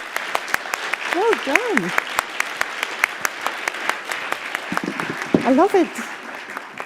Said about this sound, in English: Okay, so applause!